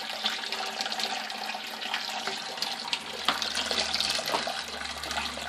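Water falls and splashes continuously inside a homemade Braumeister-style homebrew mash system, a steady trickling rush joined partway through by a low mechanical hum.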